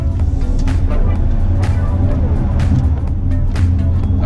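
Expensive car accelerating from 0 to 100 km/h: steady, loud, close engine and road rumble inside the cabin, with faint talk underneath.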